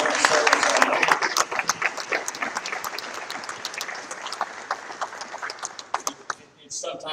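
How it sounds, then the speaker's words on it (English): A mayoral debate audience applauds the candidates, a loud burst of clapping that thins out into scattered individual claps and fades near the end. "I want us all to give a round of applause to these folks who have stepped up to the plate and want to serve as our leaders"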